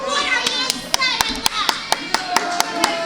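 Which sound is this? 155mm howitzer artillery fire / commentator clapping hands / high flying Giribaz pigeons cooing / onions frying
commentator clapping hands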